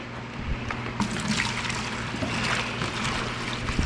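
Hot water pours from a 5-gallon container, a steady rushing splash with faint gurgles, continuous and close throughout.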